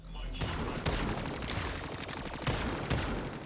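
Rapid bursts of game gunfire in Marvel Rivals strike a wall, sharp repeated shots in a dense volley with brief gaps, loud and close.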